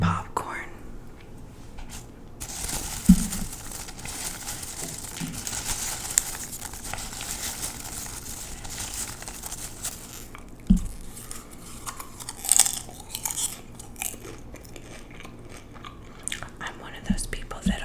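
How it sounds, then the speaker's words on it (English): Popcorn is eaten up close for ASMR, with scattered crunchy bites, chewing and occasional crinkling of a bag, alongside soft whispering throughout. "I'm one of those people that always eats all the popcorn before the movie even starts"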